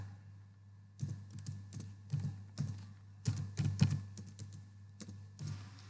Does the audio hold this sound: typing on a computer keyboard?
yes